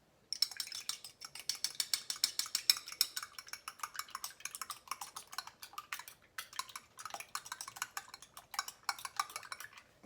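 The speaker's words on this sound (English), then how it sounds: "And then I'm gonna go ahead and beat this egg and then add the egg in." Egg being beaten in a bowl with a utensil for yeast roll dough, a steady run of quick, close clinking taps against the bowl lasting throughout, with no voices.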